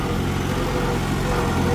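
Farmall Super A tractor engine idling steadily just after starting up, a continuous low rumble throughout, close by with no talk over it.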